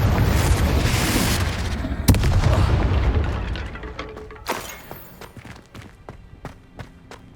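Confringo blasting spell detonating in Hogwarts Legacy, a sharp loud boom followed by rumbling, scattered debris thuds and crackles that gradually fade over several seconds.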